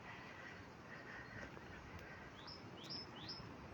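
Faint high chirps and short rising whistles of a bird sing over steady outdoor background noise, a few calls in quick succession.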